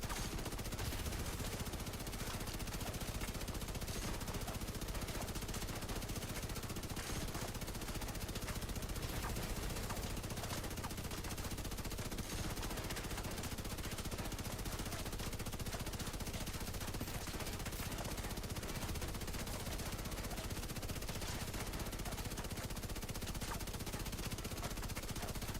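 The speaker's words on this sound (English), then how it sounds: "Three men shooting down on 2 men in a manhole" Dense, continuous automatic gunfire from The Division 2, several shooters firing down into a manhole, a steady wall of overlapping bursts with no pauses.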